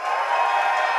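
Crowd cheering at a live podcast show, a dense, continuous roar of many voices shouting together, loud and sustained without pause through the whole short moment.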